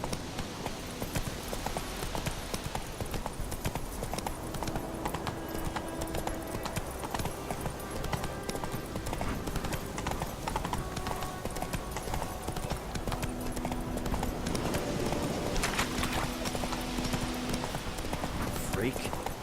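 Galloping hooves of a horse ridden through The Witcher 3: Wild Hunt, a steady driving clip-clop running the whole time under game music and ambience, with voices talking over it.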